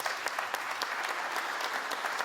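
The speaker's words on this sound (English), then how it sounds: "let's give him another round of applause" Sustained clapping fills a hall as an audience at a high school athletic hall of fame induction ceremony applauds, an even, close wash of many hands.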